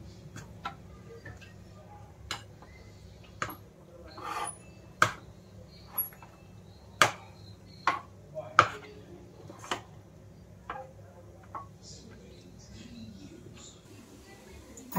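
Chakli flour being mixed in a pan, a series of irregular sharp taps and scrapes of a spoon against the pan over a quiet background, spaced roughly a second apart.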